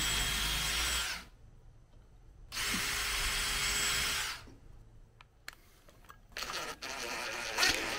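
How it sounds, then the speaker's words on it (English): Power drill with a small bit boring pilot holes into wood for a wall-mounted bike repair stand, two loud whining bursts close up, followed by quieter handling and clatter. "I'm going to go ahead and get my drill and use a small drill bit."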